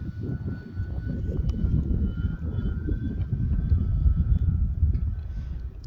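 A radio-controlled FMS F7F Tigercat model plane flies outdoors just after takeoff, its electric motors giving a steady, moderately distant drone with a faint high whine under rumbling wind noise.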